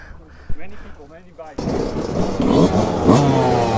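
A Yamaha YZ two-stroke motorcycle engine, YZ 125 or YZ 250 from 2022, bursts into loud raspy revving after a few quiet seconds of someone talking, climbing in pitch and staying close.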